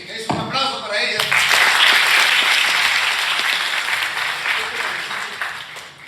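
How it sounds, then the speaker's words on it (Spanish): Sustained audience applause at a business conference, with speech up front before the clapping swells into a dense, steady ovation that holds for several seconds and then begins to fade. "Es un aplauso para ella."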